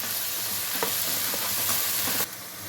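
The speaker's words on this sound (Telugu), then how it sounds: "ఇది ఫ్రై చేసుకోవాలి, బాగా పచ్చి వాసన పోయే వరకు ఫ్రై చేసుకోవాలి." Masala with green chilli pieces frying in oil in a pan for a mutton gravy curry, a steady close sizzle with a few light stirring clicks throughout, no voices.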